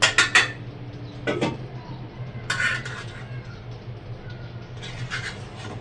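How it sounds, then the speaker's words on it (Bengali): Biryani rice, fried potatoes and meat being stirred in a metal cooking pot, heard as loud clattering scrapes at the start and then rough scraping strokes over a low background hum. "এবার ভালো করে কষিয়ে নিচ্ছি।"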